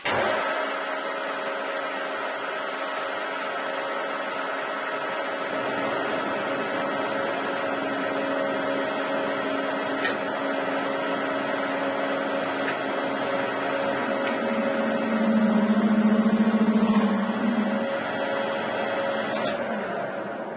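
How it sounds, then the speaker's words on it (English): Harrison M300 metal lathe turning a workpiece between centres at 800 RPM, a steady loud mechanical hum and whine of spindle and gears throughout, with a tone shift late on as the cut bites. "We'll just take a cut to at least make it round."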